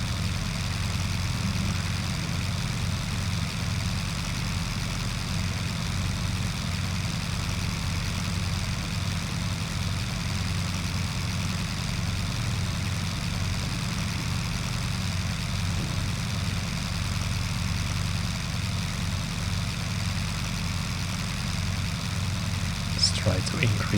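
Fokker DR1 triplane taxiing in Flight Simulator 2020, its engine a low, steady, fairly quiet rumbling drone with a constant hum that runs throughout without any change in pitch.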